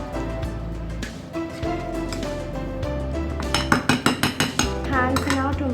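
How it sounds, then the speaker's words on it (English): Donut dough ingredients are stirred in a bowl with a utensil, close clinks and scraping knocks that quicken into a run of sharp rhythmic taps near the end. "I'm going to give all these ingredients a mix."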